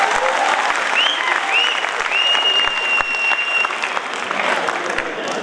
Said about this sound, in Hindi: एक बार जोरदार तालियों के साथ मुझे बताइए।